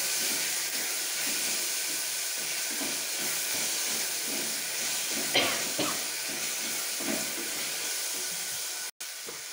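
Crushed garlic frying in a pan for brinjal gojju, a soft, steady sizzle and hiss with faint bubbling, quiet and continuous.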